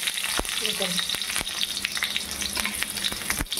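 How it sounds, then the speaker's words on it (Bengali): Chopped onion sizzles loudly in a kadai, a dense continuous frying hiss with a few sharp crackles and stirring sounds. "এদিকে আগে থেকেই কড়াই বসিয়ে নিয়েছি, এর মধ্যে দিয়ে দেব কুচানো পেঁয়াজ।"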